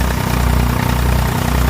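A Tiger tractor engine runs steadily nearby, a loud continuous low diesel rumble with a fast pulsing throb, heard alone for a couple of seconds.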